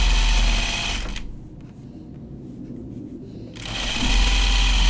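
A sewing machine edge stitching along the border of fabric backed with interfacing, whirring loudly and fast for about a second, pausing briefly, then running again in a close, continuous burst.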